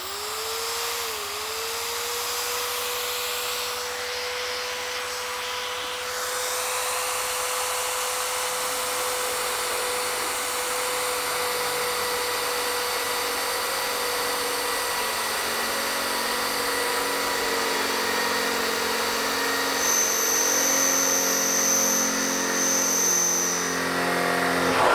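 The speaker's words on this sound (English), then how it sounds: "So we'll use this machine to drill on the brick wall here." Bosch GSB 500 RE corded impact drill running in lock-on mode against a brick wall, a steady high motor whine held for the whole stretch with slight pitch shifts as it bites into the masonry.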